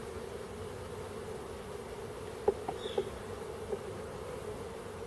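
Honey bees at a hive being worked while filling mini-nuc frames, a steady faint outdoor buzzing drone with a few soft taps and knocks, no talk.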